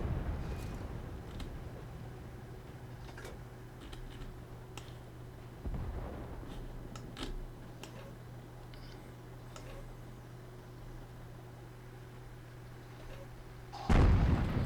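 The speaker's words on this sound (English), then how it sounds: "Got some artillery coming in on us" Incoming artillery in World of Tanks around an SU-85 tank destroyer: scattered sharp ticks and distant thuds over a low engine hum, with one heavier impact near the start and a loud close blast at the very end.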